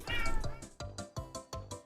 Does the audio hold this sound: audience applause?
no